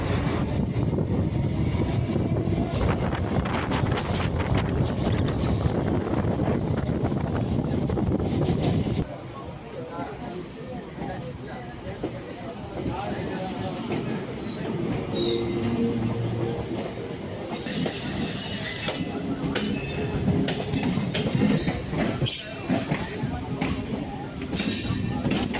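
An EMU electric suburban train between Gummidipoondi and Chennai Central rumbles along the tracks with steady wheel clatter, then high, sustained wheel squeals, loud and close from inside the carriage, with passenger voices in the background.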